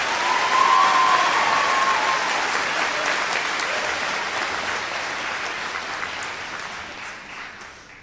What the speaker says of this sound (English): Let's give all of these speakers a round of applause.